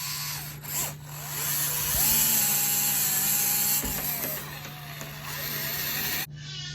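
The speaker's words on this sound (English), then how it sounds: "So now that I've pre-drilled it" A power drill whirs continuously at close range while pre-drilling a hole beside a door knob, its pitch wavering as it bores, then cuts off abruptly near the end.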